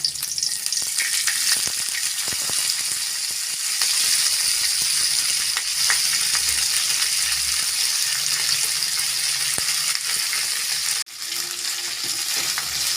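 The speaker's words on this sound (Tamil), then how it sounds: "நம்ம வல்லாரக்கீரையும் சேர்த்தாச்சு நல்லா வதக்கி விட்டுக்கலாம்" Vallarai (pennywort) greens sautéing in a pan after garlic has browned, a steady bright sizzle with scattered stirring clicks and scrapes, continuous and close, with a brief drop near the end.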